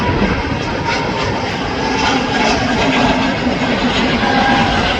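A KLM airliner jet at Manchester Airport roars loudly and steadily as it taxis or departs, a broad continuous engine rumble and hiss heard from the runway-side viewing area without talk.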